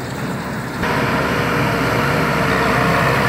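A Massey Ferguson 6713R tractor pulls a baler and bale accumulator across a hay field, its engine droning steadily and then swelling to a louder, fuller roar after a brief jump, with no talk.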